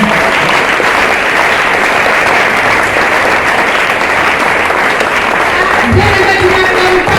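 A church congregation applauding, loud dense clapping that fills the room steadily throughout, with a few voices mixed in near the end.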